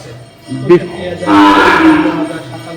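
Cattle lowing at a cattle market where Sahiwal bulls and calves are sold, one long loud moo rising over crowd chatter after a short earlier call.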